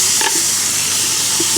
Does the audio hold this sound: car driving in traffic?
no